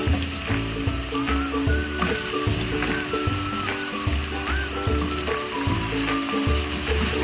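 Mboga greens frying with onions in a hot pan, a loud continuous sizzle with rhythmic scraping and clinking as they are stirred in, close up with no talking.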